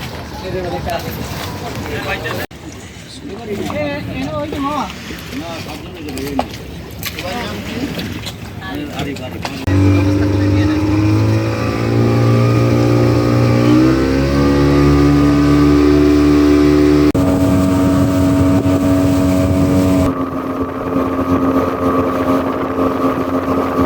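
Speedboat engine droning steadily on the river crossing from Barishal to Bhola, a loud sustained hum under wind and water noise, with voices talking over the first stretch.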